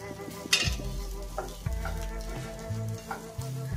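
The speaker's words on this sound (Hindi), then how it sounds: "अब हम इसमें सोफ्ट सोया चंक्स डाल करके उनको हल्का सा शैलो फ्राई करेंगे।" Soft soya chunks shallow frying in lightly heated oil in a pan, with a steady close sizzle broken by stirring scrapes and a few louder bursts as the chunks are moved around.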